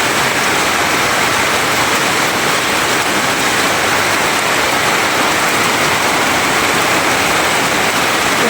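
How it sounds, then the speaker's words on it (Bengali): Heavy rain pours outside a rural home beside a cow shed, a dense, steady roar of falling water that holds unbroken throughout with no voices. "অনেক বৃষ্টি।"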